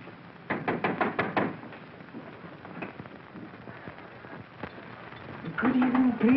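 Knocking on a door in a 1930s film scene: a rapid series of about seven sharp raps, then a few scattered thumps, before a voice speaks near the end.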